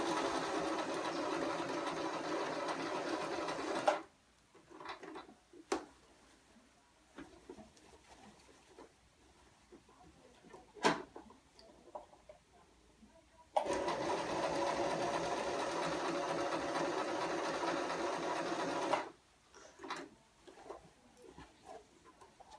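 A sewing machine stitches a girl's dress in two loud, steady runs of several seconds each, separated by a quieter stretch of fabric handling and small clicks.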